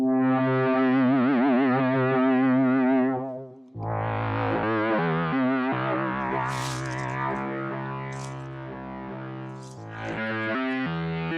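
Moog Messenger monophonic synthesizer playing sustained buzzy, distorted notes whose pitch wobbles steadily under LFO modulation, with a brief dropout before the tone resumes, loud and close with no speech.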